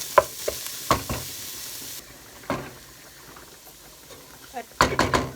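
Onions sweat and sizzle in a pot with seasoning for a bolognese sauce, heard as soft frying hiss broken by several sharp stirring scrapes and clatters, with a voice speaking.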